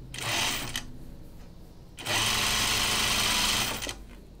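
A sewing machine stitches a linen dress seam in two bursts of fast mechanical whirring, a short run followed by a pause and a longer steady run, close and clear with no talk.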